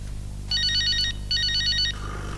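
An electronic phone ringtone sounds in two short trilling bursts over a low background hum, fairly close and clear.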